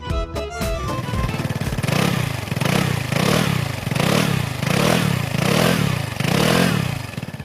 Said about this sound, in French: Le nouveau moteur E-Jet pour Green Experience Technology a été conçu pour plus d'efficacité